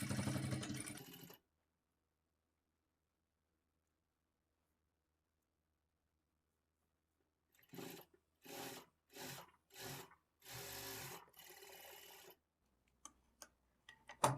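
A sewing machine stitches blouse fabric in short bursts after a long silence: a handful of separate whirring runs, then a longer one, followed by a few faint ticks and clicks.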